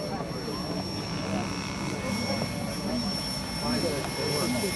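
A small radio-controlled model helicopter engine drones steadily in the near distance with a whining rotor pitch as it holds a nose-in hover at a flying-field demo, while people chatter faintly in the background.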